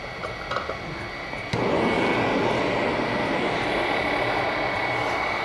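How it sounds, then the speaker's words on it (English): A propane forge burner with a fan blowing air in, a steady blower hum that suddenly swells into a loud, continuous roaring rush as the gas catches and keeps burning. "We got the fan on, we're blowing air in. We're gonna turn the propane on."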